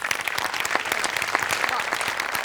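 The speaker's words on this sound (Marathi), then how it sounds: "अमोलसाठी एकदा जोरदार टाळ्या व्हायला पाहिजे" A studio audience at a Marathi comedy show breaks into dense, sustained applause, many hands clapping loudly and evenly throughout.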